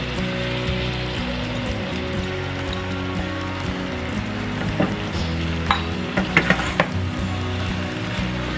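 A steady, rain-like sizzle of hot oil fills the pan as soaked red lentils go in, followed by a few brighter splatters and pops near the end; no one speaks.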